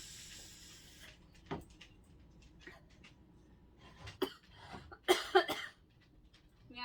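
A woman coughs a few times in short bursts, the loudest near the end, with quiet room noise and scattered clatter between them.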